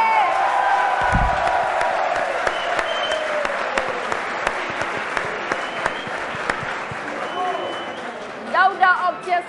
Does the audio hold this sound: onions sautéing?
no